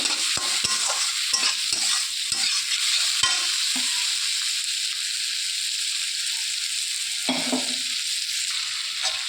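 Prawns fry with spices in a pan, giving a steady close hiss of sizzling with several sharp spatula taps early on and more scraping near the end.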